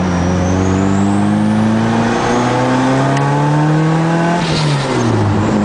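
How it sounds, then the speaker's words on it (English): A Ford Mustang Turbo with an inline four-cylinder turbocharged engine revs loudly and steadily, its pitch climbing and holding before dropping near the end, with no talking over it. "Introducing the Mustang Turbo!"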